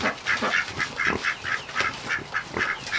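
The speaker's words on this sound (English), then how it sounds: "Some good ducks." Ducks quack in a farm barn in a run of repeated, nasal honking calls. The calls are loud and close, with several birds overlapping over a low background rustle. No one speaks.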